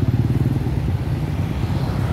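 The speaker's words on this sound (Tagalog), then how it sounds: "ito buhol-buhol na ang traffic mga kababayan ko dito sa TOGC" Dense, congested road traffic with motorcycles and cars idling and creeping along on a highway narrowed from six lanes to three, a steady close engine rumble throughout with no break.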